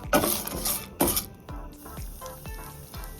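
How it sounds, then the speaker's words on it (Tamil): Ingredients are sautéed in a pan with a metal spoon, producing loud scraping bursts early and then a series of rhythmic clinks and taps against the pan over a faint sizzle, close and without speech. "இதை நல்லா வதக்குங்க நல்லா வதங்கட்டும்"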